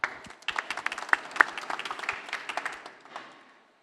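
An audience at a London pitch-and-invest business event claps after a speaker is introduced. The applause is moderate, fairly distant and steady for about three seconds, then quickly dies away.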